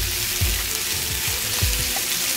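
Aromatics sautéing over medium heat in a pan, a dense constant sizzle with a few low scraping stirs from a spoon partway through, close and fairly loud.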